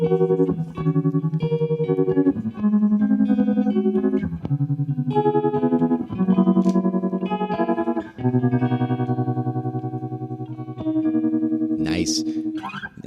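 Electric guitar fed through an Electro-Harmonix keys emulator pedal gives an organ-like tone with a pulsing tremolo, playing sustained chords and short phrases that fill the whole stretch, loud and close.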